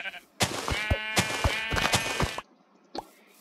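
Minecraft sheep bleat in the blocky survival game, one long wavering bleat lasting about two seconds, close and loud, followed by a short faint blip after a pause.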